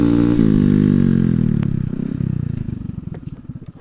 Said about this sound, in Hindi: अभी मैं जा रहा हूँ योगी भाई की बाइक राइड करने के लिए